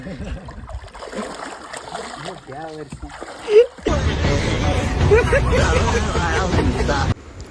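Adults play like children in a river, splashing about in the water. Loud, dense splashing and churning begins about halfway through and continues steadily, with voices chattering over it earlier.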